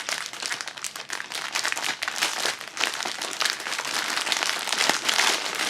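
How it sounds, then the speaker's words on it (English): A clear plastic bag around a Golfetti Pandoro loaf crinkles and rustles as it is opened and slid off, a dense, close crackle of crumpling plastic that runs continuously without voices. "and open up the packet, slide it off"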